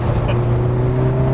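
Simca Rallye 2 engine revving as the throttle is opened again on a track run, a steady loud droning hum heard from close up inside the car, with no talking.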